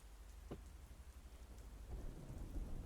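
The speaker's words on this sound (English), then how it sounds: "you do hear the sound of rain from your other ear" Faint, steady rainfall hisses in the distance with a low rumble, quiet and continuous with no voices.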